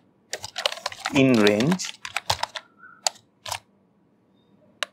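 Keys clack in quick bursts on a computer keyboard as Python code is typed, close and crisp, with someone speaking briefly between the keystrokes.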